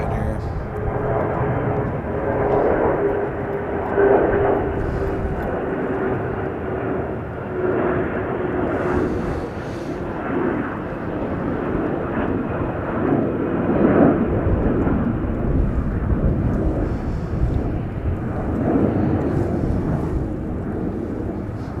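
United airliner at Chicago O'Hare, a flight from Munich, gives a broad, steady jet roar with wind buffeting the microphone, sustained and fairly loud throughout, while someone talks over it.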